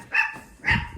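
A dog barks twice, loud and close, the two barks about half a second apart.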